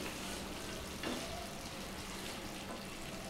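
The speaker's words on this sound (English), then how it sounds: "Now add the thinly sliced potato to the Ganth Gobhi and give it a quick mix." Kohlrabi (ganth gobhi) and thinly sliced potato sizzle steadily in a pan while being stirred together, a quiet continuous fry with a soft scrape of mixing.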